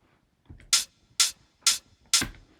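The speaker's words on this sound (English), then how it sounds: "It's quite a short, snappy hat in the original, so I've got this long hat, and I've just cut it right down." Short, snappy hi-hat sample cut down from a longer hat, four bright hits at an even pace with a faint low thump under each, dry and close, nothing else playing.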